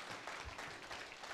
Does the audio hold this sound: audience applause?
yes